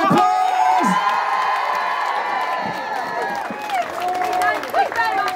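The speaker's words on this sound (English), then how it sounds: "Give us a big round of applause!" An audience at a live music show at the Fleadh Cheoil na hÉireann in Drogheda cheers and whoops loudly over a sustained crowd roar, with voices shouting through it.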